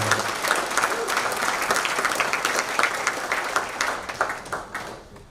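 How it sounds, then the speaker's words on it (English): Sustained audience applause at a charity event for Akshaya Patra, steady dense clapping from a crowd that thins out toward the end, with a brief voice at the start. "Can we give a round of applause for India"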